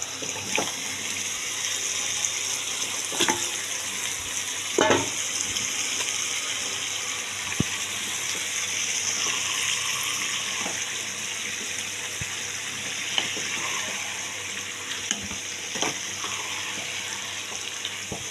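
Mutton frying in a pan for a light mutton curry, a constant soft sizzle with occasional clicks and scrapes of stirring, close but fairly quiet and without talk.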